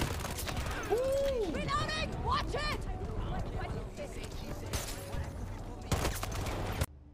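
A K30 fires fast bursts in Battlefield 2042, rapid crackling gunfire that keeps coming under louder nearby talk, with a hard final volley near the end.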